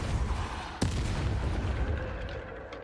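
A Depulso spell cast in Hogwarts Legacy lands as a single sharp, percussive blast, followed by a steady rumbling game ambience that slowly fades.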